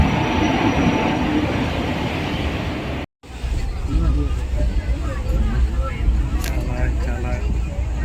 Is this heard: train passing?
yes